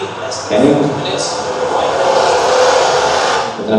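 Steady broadband highway traffic roar sits loud and continuous beneath a spoken news report, blended as one even wash of passing cars throughout.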